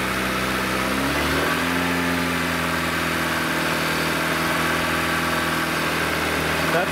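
A car engine rises from idle to a steady higher rev at about 2,500 RPM during a battery and alternator test, holding a loud continuous mid-pitched hum after the climb.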